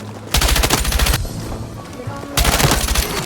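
Rapid automatic gunfire from a video game gun in a competitive tournament match, two fast bursts of shots separated by a short pause, loud and close.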